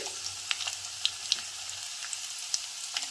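Mustard seeds, cumin and chopped garlic sizzling in hot oil for tomato pickle: a steady crackling fry with small scattered pops, close and moderately soft, with no voices.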